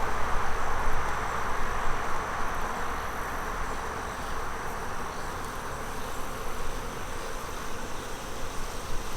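Honey bees swarm around an opened hive, filling the air with a dense, droning buzz. The hum is loud, close and continuous, with individual bees whirring past over the steady mass of sound.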